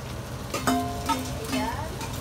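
Chicken and vegetables stir-fried in a pan: a steady sizzle runs throughout, broken by a few short metallic scrapes of a utensil against the pan.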